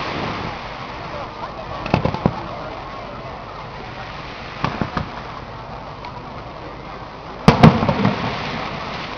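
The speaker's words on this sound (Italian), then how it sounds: "ha fatto un petardo secondo me" Firecrackers crackle in short bursts of rapid pops during a festival fireworks display for a Madonna feast on the Italian coast, arriving in three separated clusters over a steady crowd murmur, with voices talking nearby.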